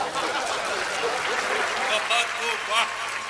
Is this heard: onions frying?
no